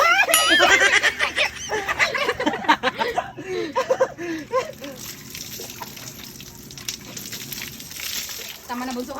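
Water splashing and dribbling during an outdoor bath on a hot day, with irregular splashes mixed in with children's chatter and giggling.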